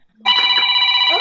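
A telephone starts ringing abruptly, with a loud, sustained electronic ring that holds steady to the end of the short moment.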